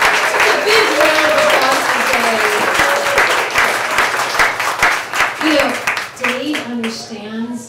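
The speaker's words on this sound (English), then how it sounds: "That's a big round of applause for Dave." Loud crowd applause and clapping for a performer at a book launch event, sustained and then thinning out, with voices talking over it, especially toward the end.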